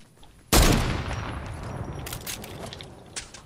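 Gunfire in a PS5 shooting game: a sudden loud burst of shots followed by a long rumbling decay, with a few further sharp cracks later, close and alone without talk.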